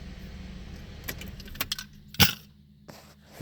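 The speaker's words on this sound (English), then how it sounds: "As soon as we're going to turn the vehicle off" Car keys jangling and clinking close by as a vehicle is switched off, a short metallic rattle peaking in one bright clatter.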